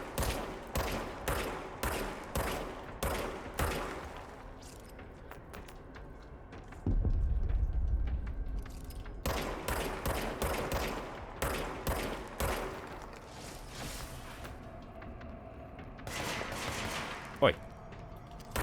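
Gunfire in the video game Control on PS5: rapid bursts of weapon shots in rhythmic volleys, a lull with a low rumble, then more shooting and a sharp impact near the end.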